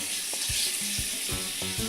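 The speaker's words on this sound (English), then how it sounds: "And I am going to be preparing the shrimp until they turn red." Shrimp and very hot cayenne peppers fry in a pan with a steady, close sizzle, interrupted by a few soft utensil knocks and stirring clatters.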